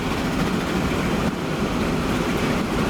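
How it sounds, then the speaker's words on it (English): A freight train in the Transport Fever 2 simulation game carrying iron, a loud, steady, dense rumble and roar that fills the whole stretch without pause or talk. "It's very loud on this train."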